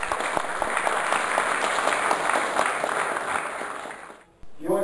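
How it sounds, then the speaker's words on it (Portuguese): A union board inauguration audience in Rio de Janeiro gives sustained applause, dense and steady, that fades near the end before a voice cuts in. "Companheiro Manuel Cancela, salva de palmas para ele."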